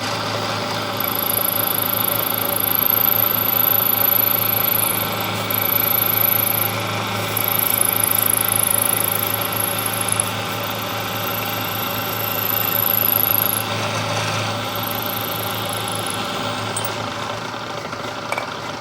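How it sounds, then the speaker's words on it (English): Power tool cutting down a metal bracket held in a vise in a machine shop, a continuous high steady whine with slight dips in level, near and alone. "I'm going to start by shortening up the bracket."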